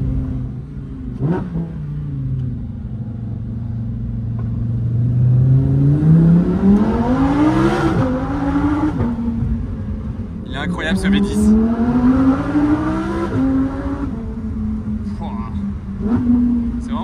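A Lamborghini Huracan Evo fitted with an Akrapovic exhaust revs on a road high above Monaco, its engine note climbing and falling in loud sustained sweeps, with a second rev near the end and some background chatter.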